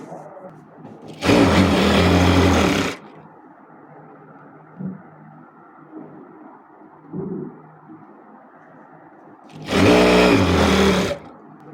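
Sewing machine stitching a dark blue blouse piece: two loud, steady bursts of motor whir of about two seconds each, with a quiet hum and a few soft handling bumps between them.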